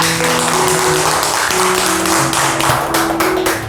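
A lecture audience applauds to welcome a guest speaker, a former ambassador, with dense, loud, continuous clapping that fills the whole stretch.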